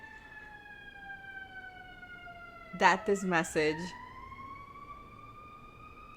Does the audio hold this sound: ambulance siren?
yes